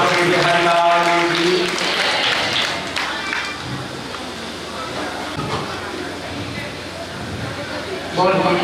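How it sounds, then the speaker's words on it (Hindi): Loud applause for a revered guru at a devotional gathering in a Vrindavan ashram: dense, sustained clapping from a large crowd, with a voice chanting over it at the start. "तो महाराज जी के लिए बहुत जोरदार तालियां"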